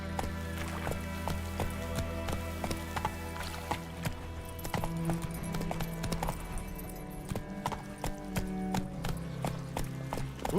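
Horse galloping in The Witcher 3: Wild Hunt, with rapid, steady clip-clopping hoofbeats under a continuous low game music bed, close and moderately loud throughout.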